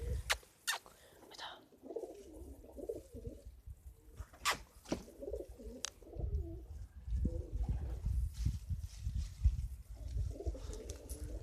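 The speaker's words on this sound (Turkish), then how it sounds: "Hadi çıkarayım güvercinleri" Pigeons cooing in a yard, soft repeated low coos near the listener with scattered sharp clicks and rustles, fairly quiet overall.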